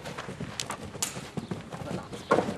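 A horse cantering, its hooves giving a rhythmic clip-clop of dull thuds, fairly close, with a voice speaking over part of it.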